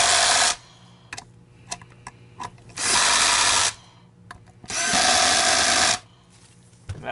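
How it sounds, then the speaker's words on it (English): A power tool torques screws good and tight on the cleaner head of a Royal 4000 upright vacuum, running in three loud, sustained bursts with quieter clicks and handling noises between them. "Now you're going to torque it good and tight."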